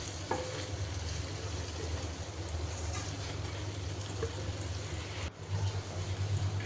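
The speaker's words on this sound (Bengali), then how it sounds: "এখন নেড়ে চেড়ে কষিয়ে নিব।" Beef liver sizzles steadily as it is stirred and fried in a pot, with a constant close frying hiss, soft scraping of the spoon, and a brief clatter near the end.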